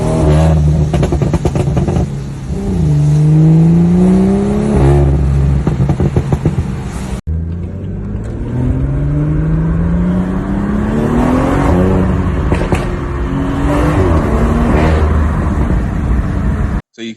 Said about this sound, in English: anybody had some videos of their car making this Brap sound